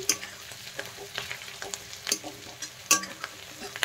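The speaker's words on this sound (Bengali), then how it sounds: "পেঁয়াজ আর ক্যাপসিকামগুলো আমি ভাজা করে নিচ্ছি।" Onions and capsicum fry in a pan for chilli chicken, a soft sizzle under scattered clicks and scrapes of stirring, fairly quiet and close.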